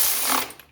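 A ratchet snugs down bolts on an aluminum valve cover of a 1983 Mercedes 300D diesel, giving a short, close burst of rapid clicking with no talk.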